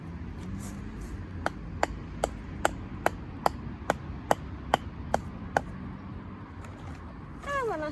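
Tent pegs are hammered into the ground for a forest school tarp shelter, about a dozen crisp, evenly spaced strikes ringing out over quiet outdoor background.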